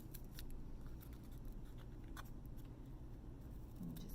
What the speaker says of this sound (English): Then you're going to take your scissors and you're going to cut